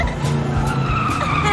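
A race car skids in a loud sound effect, with tires squealing over engine roar and a rising whine, heard alone in one continuous burst.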